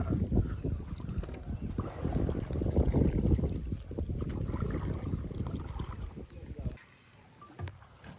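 Boat ride on Talkote lake near Sigiriya, with a steady engine rumble and water wash mixed with wind buffeting the microphone, easing off near the end.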